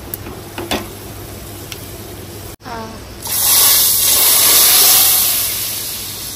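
Tempering (phodni) hits hot oil and sets off a loud, close sizzle that swells suddenly and then holds as a steady broad hiss. Before it starts there is a quieter background hum.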